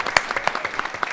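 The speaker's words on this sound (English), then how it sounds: "let's have a round of applause for our first finalist." Applause from an audience at a corporate challenge event, a steady patter of many hands clapping throughout at moderate level.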